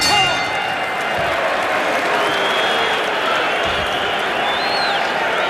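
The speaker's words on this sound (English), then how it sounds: "the crowd is applauding the courage of Steve Zalski as much as they're applauding the efforts of Mike Tyson" A boxing arena crowd at a Mike Tyson bout applauds and cheers in a steady, loud wash, with a ringside bell or clang faintly audible through the noise.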